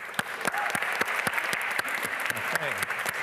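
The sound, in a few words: audience applause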